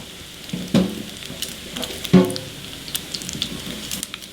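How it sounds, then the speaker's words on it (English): Pasta noodles poured from a pot into a colander, with a few splashing, clattering bursts of water and metal over a low background, fairly close. "drain the noodles into a colander"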